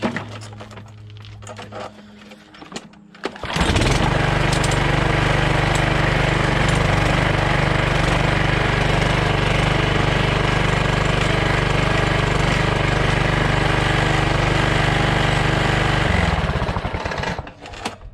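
A John Deere JX75 walk-behind mower under repair for a drive cable starts up and runs steadily with a loud, even engine roar and rattle for about thirteen seconds before cutting out, with quiet handling noises before it.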